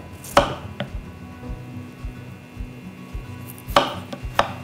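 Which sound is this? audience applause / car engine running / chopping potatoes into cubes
chopping potatoes into cubes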